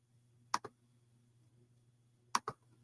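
Computer mouse clicks at a desk, two quick pairs of sharp clicks spaced about two seconds apart over a faint steady electrical hum.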